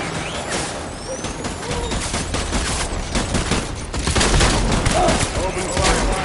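Gunfire in the video game Death Stranding, dense rapid volleys with booming impacts, loud and continuous throughout, with voices shouting over the shooting.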